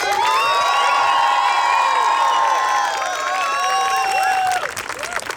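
A carnival crowd in Surat cheers a local rapper with shouts, whoops and clapping, loud and sustained throughout.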